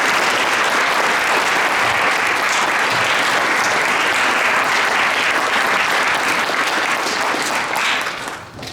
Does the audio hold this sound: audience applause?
yes